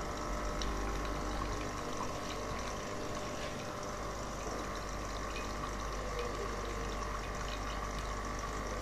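A steady, continuous espresso machine pump hum with water flowing runs throughout, close and even, with no speech.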